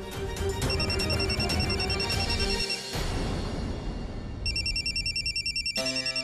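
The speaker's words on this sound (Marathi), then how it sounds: "सौरभचा फोन आत्ताही नाही उचलला तर त्याला संशय येईल" A phone ringtone chimes repeatedly in a bright electronic pattern, over busy background noise, then continues with a different tone near the end.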